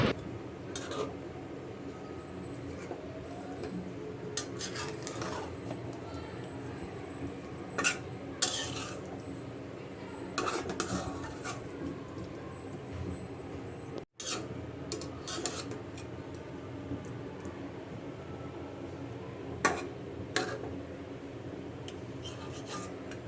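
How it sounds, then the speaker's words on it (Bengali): Rita fish being stirred and fried in a pan, scattered scrapes and clinks of a utensil against metal over a low frying hiss, close and soft, with quieter stretches between strokes. "এখন আমি মাছগুলো ভালো করে নেড়ে চেড়ে কষিয়ে নেব"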